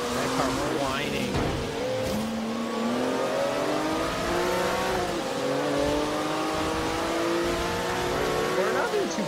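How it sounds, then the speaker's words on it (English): A Porsche 911 Turbo S engine in the video game Forza whines and revs steadily as the car slides sideways, rising and falling in pitch close up, with brief tire noise and a voice talking over it. "That car whining"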